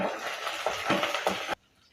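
Chili, dried red chili and black gram sautéing in a pan for sambar, a steady sizzle with a few spatula stirs and scrapes for about one and a half seconds before cutting off.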